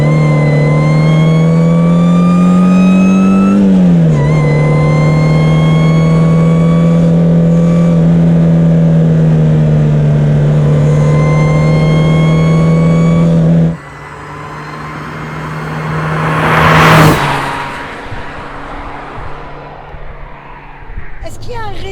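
Peugeot 309 GTI 16 with a supercharged Dimma conversion pulls hard in fifth gear from low revs, a loud, steady engine drone rising in pitch, then easing off at a gear change or lift, with a brief whoosh and road roar afterward; people talk over it.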